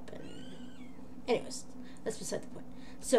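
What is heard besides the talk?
kitten meowing in its kennel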